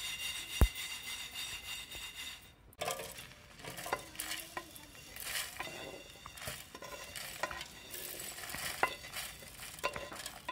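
Whole spices dry-roasting in a pan give faint, scattered pops and crackles with a soft sizzle, punctuated by a few sharp clicks and stirring scrapes against the metal.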